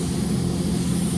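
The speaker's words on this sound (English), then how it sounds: "we're going to take our Bulldog and we're just going to spray it over the items that aren't necessarily supposed to have paint on them" A Harbor Freight paint gun sprays Bulldog coating during a DIY single-stage ALK200 paint job, a loud and steady rushing hiss that runs unbroken and close throughout.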